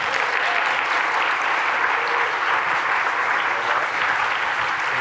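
Audience applause for a speaker named Eric at a Geo for Good 2023 biodiversity talk, a steady, dense wash of many hands clapping that holds evenly at full strength for the whole stretch with no voices.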